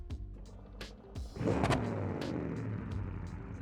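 A diesel car engine in the BeamNG driving game cranks with a few brief clicks, then catches and settles into a loud, steady rumbling idle close by.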